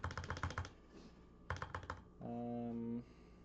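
Computer keyboard typing while playing the game Bitburner: two quick bursts of clicky keystrokes, the second ending in a tab press, followed by a short electronic tone.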